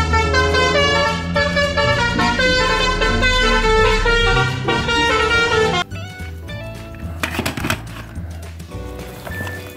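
A toy bus sounds its telolet horn as a loud, bright, melodic multi-tone tune that plays steadily and then gives way to rougher electronic engine noise.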